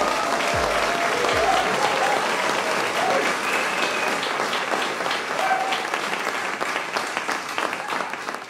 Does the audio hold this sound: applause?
yes